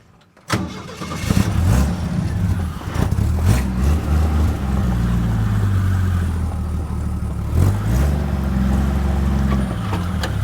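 A Chevrolet C10 truck engine with a restricted gas line cranks and catches, then runs loud and close at an uneven, surging idle with a few rises and dips in pitch.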